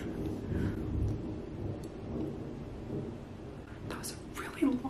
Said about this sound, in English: That was a really long clap of thunder.